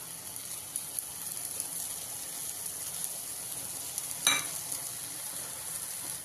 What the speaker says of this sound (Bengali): আগে থেকে ভেজে রাখা চিংড়ি মাছগুলো তার মধ্যে দিয়ে দেব।